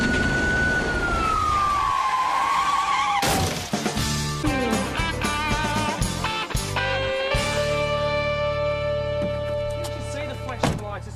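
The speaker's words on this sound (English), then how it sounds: "I had the siren and I don't put on for fun" A police car siren wailing up close, a rising and falling tone that shifts into rapid yelping bursts, loud over engine and street noise.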